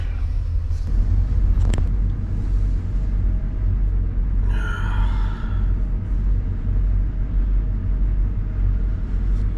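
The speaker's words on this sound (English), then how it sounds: "I'm going to attempt to go to sleep with all these trucks running around me" Trucks running nearby at night: a steady low engine rumble close by with passing vehicle noise, a brief clatter and a short squeal partway through.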